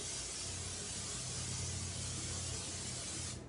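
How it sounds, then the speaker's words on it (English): Olive oil cooking spray hisses steadily onto a pan in one continuous close burst, loud and unbroken for a few seconds before cutting off. "I have the olive oil spray."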